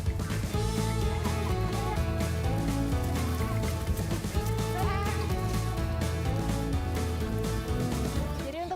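Sheep bleat repeatedly over a steady, busy background, loud and close on a rural Indonesian farm where the flock is fed on freely available forage.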